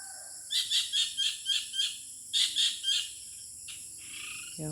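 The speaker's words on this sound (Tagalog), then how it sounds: "Yung tunog ng ibon." Birds call on a tropical ginger farm in the Philippine countryside, giving bright rapid chirps in two bursts of repeated notes, fairly close and clear over a faint insect-like background hum.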